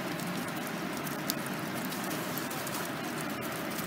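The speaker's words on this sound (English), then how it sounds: "This is not snow you're looking at. This is actually hail." Hail falls during a thunderstorm in Redding, a steady, faint, even patter of small impacts with no pauses.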